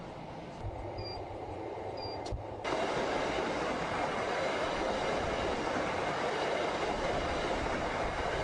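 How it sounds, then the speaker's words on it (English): A train rumbles steadily along the rails, its broad rolling roar swelling louder partway through with faint clicking from the wheels. "This train trip takes only 15 minutes."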